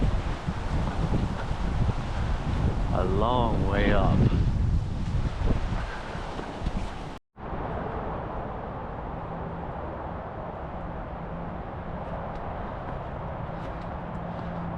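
Gusty wind on the Oneonta Gorge Trail in the Columbia River Gorge in fall, roaring steadily across the microphone with rustling, while a person speaks briefly over it.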